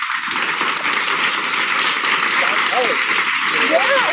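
A live studio audience claps continuously in dense applause, steady and fairly loud throughout. Faint tonal voices rise briefly beneath the clapping toward the end.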